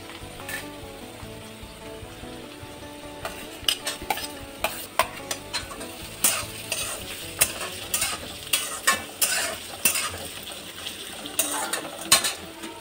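Chopped garlic tipped into potatoes frying in a pan, giving a steady soft sizzle with repeated stirring scrapes and clinks that grow busier partway through, close up and with no voices.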